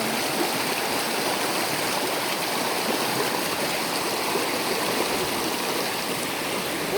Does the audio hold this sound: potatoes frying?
no